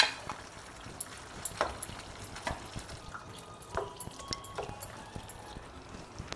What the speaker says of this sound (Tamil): நல்லா கொதிச்சுட்டு இருக்குல்ல, இது சரியான பக்குவங்க